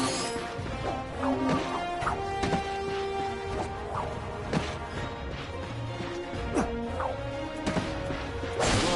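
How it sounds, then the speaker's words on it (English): Crates are smashed in the Ratchet and Clank video game, with a string of loud, close wooden crashes and thwacks at irregular intervals over a steady game soundtrack. "Look at him smashing crates."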